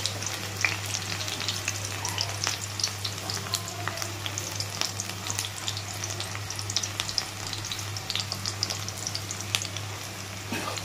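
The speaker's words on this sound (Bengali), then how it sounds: "তেল গরম হয়ে গেছে, এই পেঁয়াজটা দিয়ে দিচ্ছি।" Onions sizzle in hot oil at the start of making Maggi noodles, a constant crackling fry with scattered pops and sputters and a low steady hum underneath.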